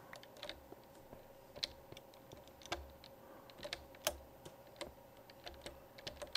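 Computer keyboard typing during a Minecraft server session, quick irregular key clicks with a few louder taps, close and fairly quiet, no talking.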